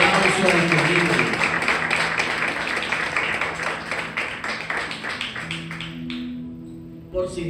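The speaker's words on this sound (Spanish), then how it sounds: "denle un fuerte aplauso al Señor" A church congregation claps together after a prayer, a dense, steady burst of applause that gradually thins out over several seconds, with voices and music lingering underneath.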